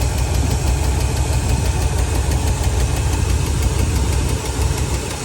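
An engine idles steadily with a fast, even ticking or knocking running through its rumble, close and loud, from an exhaust leak or lifter tick.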